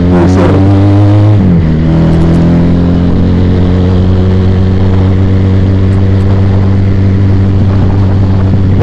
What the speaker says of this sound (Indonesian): naik motor cruiser.